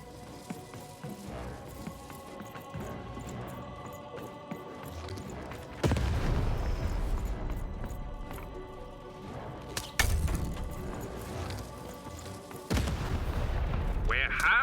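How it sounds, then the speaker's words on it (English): Cannon blasts in the video game Lost in Random, three loud booming shots spaced several seconds apart over a quieter bed of game music and ambience. "Shoot the button to fire the cannon."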